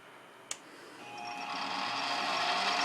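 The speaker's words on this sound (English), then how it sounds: "As I crank it up, the spindle will start turning. And I can increase the RPM." The spindle of a mini milling machine spins up, a faint hum that climbs steadily in pitch and grows louder as the speed increases, with a small click just before it starts.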